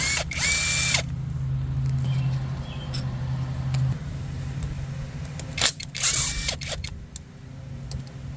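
A tool works 12mm bolts on the AC compressor of a 2014-2017 Mazda 6 2.5L during engine removal, with two short loud whirring bursts at the start and near the end over a steady low hum and small clicks.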